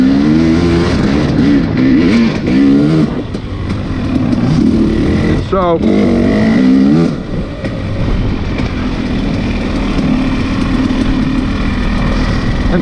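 A Husqvarna TX300 dirt bike with a Keihin PWK carburetor revs up and down repeatedly, its two-stroke engine loud and close with rising and falling pitch, and steady running between bursts under intermittent talk.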